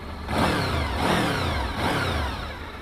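A 17-year-old Honda VFR 750 motorcycle engine revs up three times in quick succession, each rising, rasping swell loud and close before dropping back toward idle.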